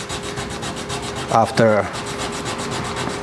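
A knife blade is sanded with 400 grit sandpaper in rapid, even rubbing strokes at close range, with a brief voice partway through.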